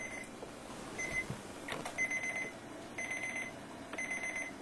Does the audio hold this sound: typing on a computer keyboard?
no